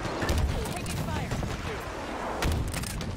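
Gunfire and rocket blasts in the Halo Infinite multiplayer game, a steady rattle of shots with a couple of deeper booms, mixed under the game's ambient noise.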